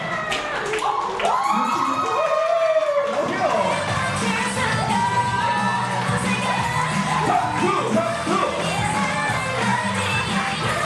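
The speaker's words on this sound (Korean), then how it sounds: "박수!" Guests at a first birthday party in a Daegu buffet hall cheer and shout, with children's voices mixed into a lively, continuous crowd roar that holds steady throughout.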